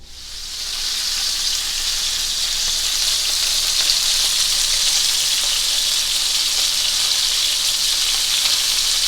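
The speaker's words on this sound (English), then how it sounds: "that's the beautiful sound of braising" Chicken thighs sizzle steadily in avocado oil and butter in a hot pan. The hiss is loud, close and continuous from start to finish, with no talking.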